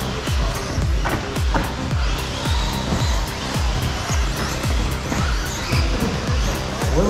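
Several small radio-controlled race cars buzz past on a hobby track in repeated whining passes, a steady near-constant motor drone with rising and falling sweeps, and someone commentates faintly in the background.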